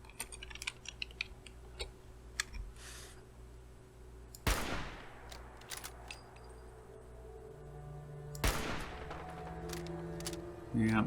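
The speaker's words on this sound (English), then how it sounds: "Yeah, they'll just blindly shoot over here, but they know I'm close." In Fallout 4, enemies fire a few sharp shots and bursts over steady background hum, mixed with quick keyboard clatter.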